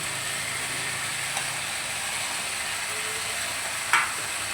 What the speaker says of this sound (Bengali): এবার আমি মাছের মাথাটাকে দিয়ে দেবো।